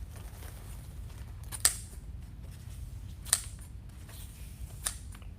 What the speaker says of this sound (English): I'm gonna just cut my ribbons all at an angle.